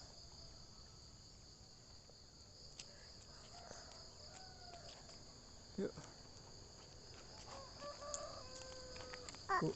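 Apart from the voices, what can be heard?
crickets chirping in a village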